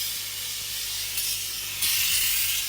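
Cooking oil sprayed from a can into a pan on a stovetop, a steady close hiss that swells louder in its last second, heard alone.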